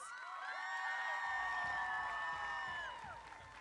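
A crowd at a high school football homecoming cheers and whistles for the homecoming court, a steady wash of shouts and whoops that swells and then fades, heard faint and distant.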